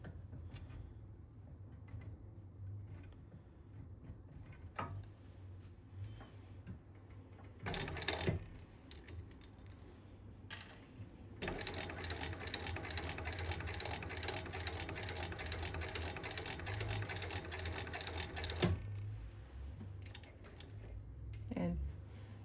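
A sewing machine top-stitches fabric in one long, steady run of about seven seconds, preceded by scattered clicks and handling sounds from adjusting the work.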